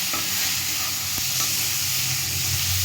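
Crab curry with chili and turmeric cooking in a frying pan, giving a continuous loud, dense sizzle with faint scraping from stirring, close up.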